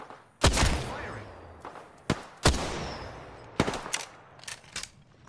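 Gunfire in the video game Apex Legends: several loud, sharp bursts of shots with brief echoing tails, spaced unevenly across a few seconds, with no speech over them.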